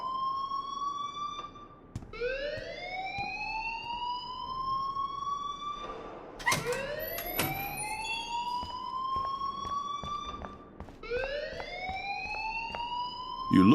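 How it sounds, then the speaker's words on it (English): In the Life is Strange video game, a fire alarm wails in repeated rising electronic sweeps, each tone climbing then cutting off before starting again, fairly loud and alone with no voices. "please turn off that alarm since that's your job"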